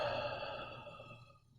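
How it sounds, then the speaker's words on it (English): A single slow, deep exhaled breath during a guided meditation practice, close and soft, trailing off gradually into quiet. "Take another deep breath"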